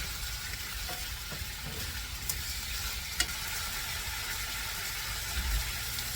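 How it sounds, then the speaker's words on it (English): Chicken pieces sautéing in a pan after being flipped, a soft, steady sizzle held at a low level with a faint clink or two. "flip these over. And I will let them saute for about 2 minutes on this side."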